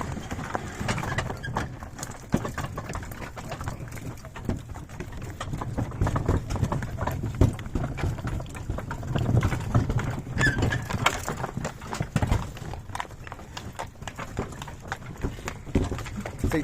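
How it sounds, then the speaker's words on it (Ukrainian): Horses walking on a hard surface, hooves clip-clopping in an uneven steady rhythm, fairly close, with some rustling and background noise. "Поїдемо, покажеш, як коні йдуть до пакета."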